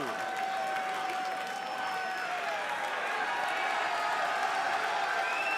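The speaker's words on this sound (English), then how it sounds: "Listen to this crowd!" A wrestling crowd at an MLW event roars in a steady, dense wash of cheering and applause, with excited commentary running over it throughout.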